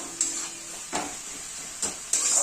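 Fish curry with a little water stirred in a pan, a soft low sizzle with a few spaced scraping strokes of a spoon against the pan; quiet and close, no talking.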